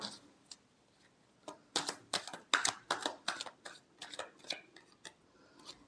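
Tarot cards are shuffled by hand in a quiet room: a run of crisp snapping and flicking clicks in uneven clusters, close and soft, with no talking.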